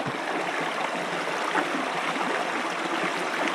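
Water pours steadily into a dry, empty fish pond, a broad continuous rushing wash with no pauses, moderately close and alone, without speech.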